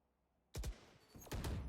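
Gunfire in the tactical shooter Valorant during a competitive match comes as two sharp bursts separated by a brief pause. The shots are fairly quiet, with silence before the first burst.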